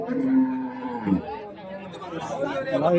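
A cow lows beneath lively crowd chatter at a cattle market in Karimangalam, Dharmapuri district, India, with people talking nearby amid a busy, noisy outdoor gathering.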